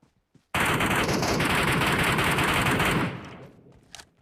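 Sustained automatic gunfire in the video game Metro Royale, a loud continuous burst lasting about two and a half seconds before cutting off abruptly, with a faint tail afterward.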